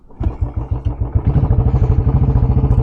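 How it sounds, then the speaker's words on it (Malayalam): A Royal Enfield Bullet 350 thumps as it starts and pulls away, its single-cylinder engine beating in a loud, steady, close rhythm that quickens slightly as it gets moving. "നമുക്ക് ബുള്ളറ്റ് കിക്ക് അടിച്ച് വണ്ടി ഇവിടെ നിന്ന് എടുത്തുകൊണ്ട് നൈസിന് പോവാം"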